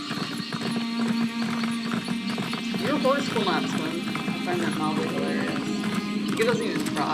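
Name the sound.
horse hooves galloping in Elder Scrolls video game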